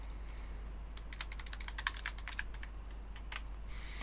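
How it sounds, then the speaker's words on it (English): Quick bursts of typing rattle on a computer keyboard on a cramped desk, clusters of sharp key clicks over a low hum, quiet and close. "I make a lot of mistakes on this keyboard because I've not got much room on my desk"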